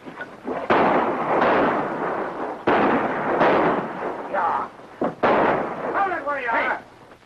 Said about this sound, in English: That bullet was intended for you, Mr. Colby.